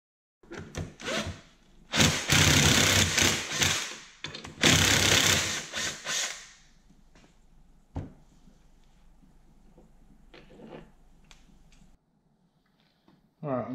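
Input shaft bearing being removed from a Toyota W50/W52 transmission: bursts of loud mechanical grinding and pressing, then sparse clicks and taps of tools in a quiet shop.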